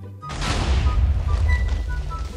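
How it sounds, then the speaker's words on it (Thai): Minecraft explosion during a Lucky Block game: an abrupt blast with a deep, rumbling low end that swells and lingers for about two seconds, with faint game tones sounding under it. "ได้ระเบิดครับ"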